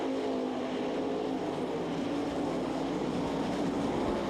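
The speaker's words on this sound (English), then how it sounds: "taking a look at 2nd place, that's Jason Johnson and John Egan's racing side by side." Sprint cars racing side by side on a dirt track at the Knoxville Nationals, a steady distant roar of engines droning continuously with no talk.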